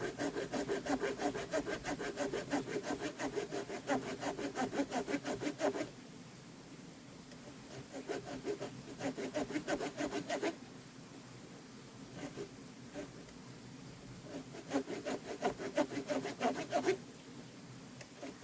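A Ruike LD B pocket knife cuts square notches into a seasoned wooden beam in rapid rasping back-and-forth strokes, close but quiet, coming in bursts separated by brief pauses.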